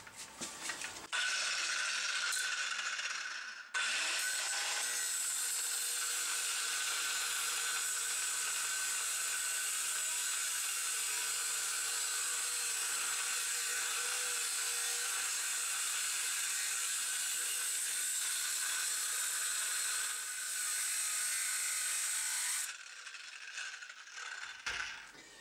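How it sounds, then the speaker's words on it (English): Abrasive cutting into the cracked wheel hub flange of a 2015 truck during teardown, a loud steady grinding screech held for about twenty seconds, starting and stopping abruptly, with no talk. "I am definitely cutting into the flange, so if you want to reuse your hub, don't do it this way"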